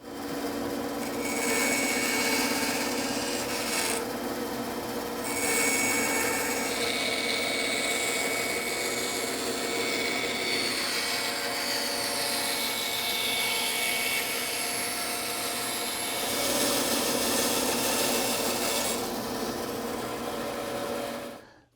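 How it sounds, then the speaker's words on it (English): A bandsaw cuts a wooden chair pattern, a loud, continuous whining drone with shifting tone as the blade works through the wood, running steadily for about twenty seconds with no voices. "let me cut it out on the bandsaw and start smoothing it out"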